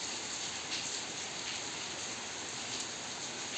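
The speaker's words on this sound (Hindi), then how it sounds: "भले ही बारिश हो रही है, ठंड इतनी नहीं है" Steady rain falls on a cold day with a constant, even hiss and no voices.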